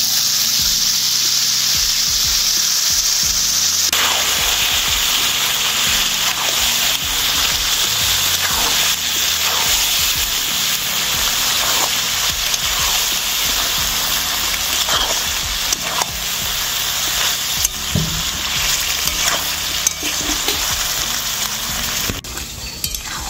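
Soybean curry with fried onions sizzles loudly and continuously in a kadai, with intermittent scraping and clinking from stirring throughout, close up.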